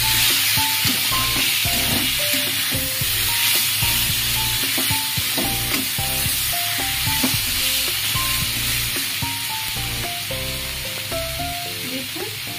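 Spiced vegetables being stirred in a pan with chilli powder, a steady sizzle under repeated scraping strokes, continuous and fairly close throughout.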